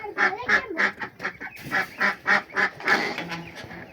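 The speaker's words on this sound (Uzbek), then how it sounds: "Mana do'stlar, shu yerda o'zida 100 ta jo'jamiz bor." Flock of poultry on a farm giving a rapid series of about a dozen loud, honking calls in close succession, near and prominent, no talk over them.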